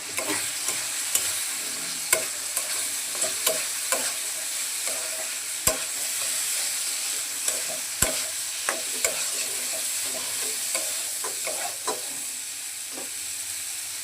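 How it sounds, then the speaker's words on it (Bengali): Fried potatoes and soybean chunks are stirred into a masala in a pan, with an even sizzling hiss and repeated scraping knocks of the spoon at an irregular pace. "এখন ভেজে রাখা আলু আর সয়াবিনটি দিয়ে দিচ্ছি।"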